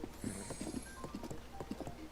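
A horse's hooves in the video game Zelda: Tears of the Kingdom, clip-clopping in a quick, uneven rhythm of hollow knocks, close and clear over soft background game ambience.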